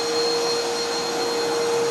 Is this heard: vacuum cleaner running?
yes